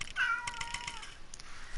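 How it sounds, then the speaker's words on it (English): A house cat named Dusty lets out one sharp, nearby meow that trails into a softer mewing tail, with light tapping in the background and no speech. "Not now, cat! Jeez."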